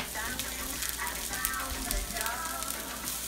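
Minced garlic, seasoned with sea salt and black pepper, hits a hot pan and sizzles steadily in a dense, even crackle that stays fairly quiet throughout.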